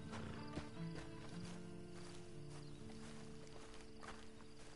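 Horse hooves clip-clop in the Western video game Red Dead Online, light irregular steps at a moderate distance over a quiet ambient bed with a faint steady hum.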